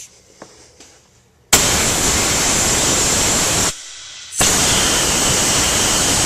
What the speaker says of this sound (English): I'm going to blow out the coolant passages a little bit with some compressed air